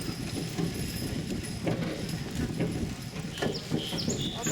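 Horses run off, their hooves making a loose, rapid clatter in a noisy outdoor setting, with a few bird chirps and faint voices in the background.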